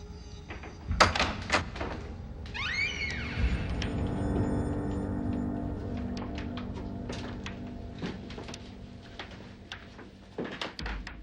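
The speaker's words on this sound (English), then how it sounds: "Open the door." Door being opened, with sharp clunks and a sliding scrape near the start, followed by a low rumble and scattered knocks and thuds.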